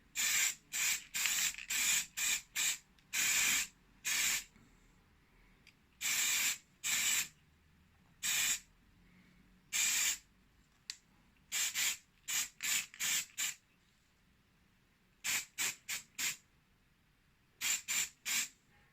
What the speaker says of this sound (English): hold it in the box and give it a good spray